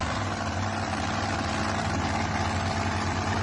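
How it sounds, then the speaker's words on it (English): An internal combustion engine drives a fan on a go-kart, like a swamp boat's propulsion, giving a loud, steady, unbroken drone with a low throb, close by and without speech. "It's an internal combustion engine powering a fan."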